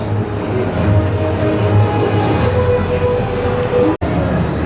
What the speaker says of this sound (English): A very cool piece of Texas theming over here by their train ride.